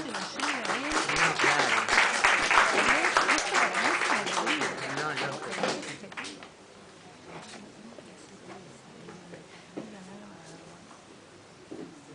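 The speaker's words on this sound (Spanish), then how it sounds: "Un aplauso para el músico." A café arts-space audience at a live evening music event breaks into loud, dense clapping that swells, then fades after about six seconds as a voice begins talking over the quieter room.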